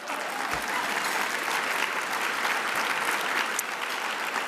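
Sustained audience applause fills an awards luncheon hall, a dense, even wash of clapping from a large crowd lasting the whole stretch with no voices over it.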